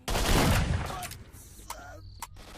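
Gunfire in the S.T.A.L.K.E.R. Shadow of Chernobyl video game: a loud burst of shots that booms and decays, followed by a few sharper isolated cracks and clicks, with no one speaking.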